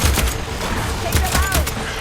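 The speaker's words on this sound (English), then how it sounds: "Pick up that weapon and start firing!" Weapon fire in Horizon Forbidden West arrives as a few sharp, punchy bursts spread across two seconds, set over a dense game soundscape with low thumps and a voice in the background.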